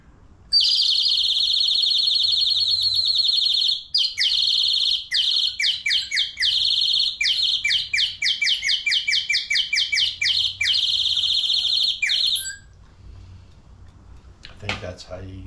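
A handheld nightingale bird caller whistle blown in a long, loud, unbroken run of rapid warbling chirps and trills that imitate birdsong, ending abruptly before a brief soft rustle.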